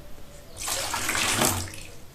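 Water being poured into a large mixing bowl of eggs and orange juice for sourdough tsoureki dough, a steady splashing pour of about a second and a half, close and clear with no talk.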